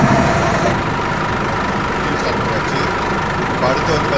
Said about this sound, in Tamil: இப்போ அடுத்து வந்து நம்ம பார்த்தீங்கன்னா இன்ஜினை ஸ்டார்ட் பண்ணோம்